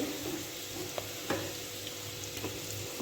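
Garlic, garam masala and red chilli powder sizzle in hot oil for a dal fry tempering, a steady close frying hiss with a few faint clicks and stirring touches throughout.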